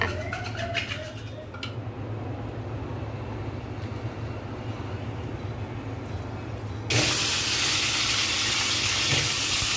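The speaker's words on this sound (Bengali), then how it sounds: "আলুগুলো হালকা একটু তেলে ভাজা হচ্ছে।" Potatoes fry lightly in mustard oil for biryani, a steady close sizzle running throughout that grows louder and brighter in the final few seconds, with faint bird chirps early on.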